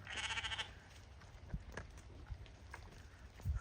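Sheep on a farm bleating in a short burst at the start, followed by quieter farmyard shuffling and a few soft thuds, fairly faint overall.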